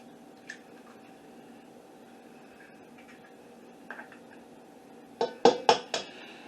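Eggs for a meatloaf mix are cracked against a bowl: a few quick, sharp knocks and clinks close by near the end, after a quiet stretch with faint small taps.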